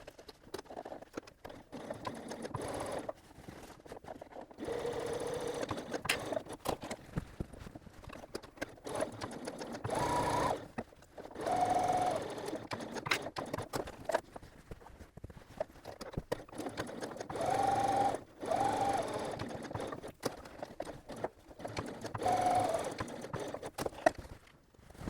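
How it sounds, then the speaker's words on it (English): A sewing machine runs in steady stretches as it stitches around the outside of a zippered bag with a curved convex zipper, a soft close whir with short pauses between runs. "Once you finish sewing around the outside of your bag, you can turn it out the right way."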